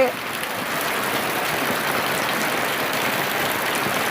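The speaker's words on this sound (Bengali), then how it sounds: "আপনারা দেখতে পাচ্ছেন কিভাবে বৃষ্টি হচ্ছে" Steady, dense rain falling without letup, a broad continuous hiss with no voices.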